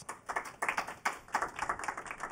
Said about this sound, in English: So everyone can give him a round of applause.